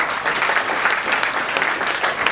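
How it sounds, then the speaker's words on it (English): Sustained round of applause from an assembled audience at a felicitation ceremony as dignitaries take their places on the dais, a dense, even wash of many hands clapping at full volume with no voices above it. "could we have our dignitaries to please join us on the dais for a group photo opportunity with a big round of applause"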